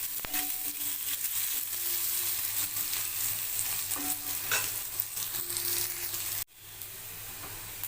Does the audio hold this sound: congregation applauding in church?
no